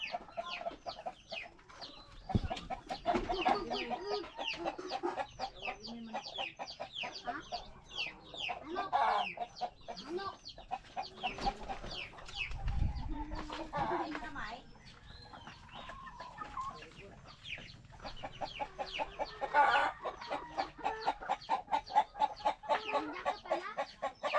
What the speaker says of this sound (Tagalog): Manok pangit.